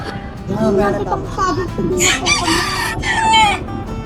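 Roosters crow in bursts, loud and close, with chickens clucking between the calls and people talking alongside.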